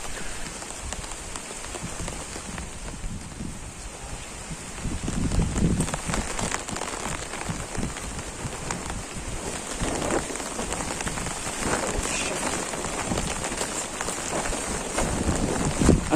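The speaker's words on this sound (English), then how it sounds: "it's about to rain" Heavy rain falling outdoors under darkening cloud, a constant hiss of drops on surfaces that grows louder about a third of the way in and then keeps up steadily, with some wind noise mixed in.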